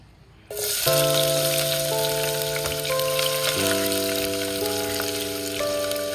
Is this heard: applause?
no